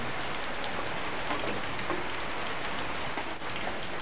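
Rain falling steadily, a dense continuous hiss of drops striking surfaces, close and even throughout, with no voices.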